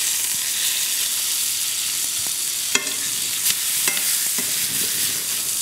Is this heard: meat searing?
yes